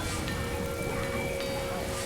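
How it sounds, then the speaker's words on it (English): Heavy rain pours in Bali two days before a royal wedding, a dense, unbroken hiss that stays loud and even throughout with no talk. "It's pouring with rain."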